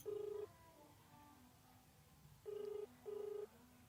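A phone ringback tone beeps faintly in three evenly spaced pulses, with quiet gaps between them and no talking.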